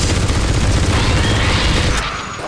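Heavy weapons fire from an exosuit in the game Aliens versus Predator 2, a dense, continuous barrage of booming blasts that stays loud throughout and eases slightly near the end.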